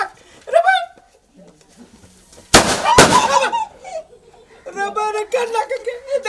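Two firecrackers burst in quick succession, loud sharp bangs close by, with people laughing and talking before and after.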